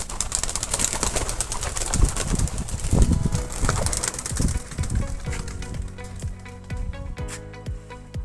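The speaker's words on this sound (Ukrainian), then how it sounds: "Дивіться, як вони виходять із голубника, спочатку трохи обережно, але потім починають розправляти крила." Pigeons leaving their loft flutter and beat their wings in a busy burst of flapping, with scattered soft thumps and rustles that gradually thin out toward the end.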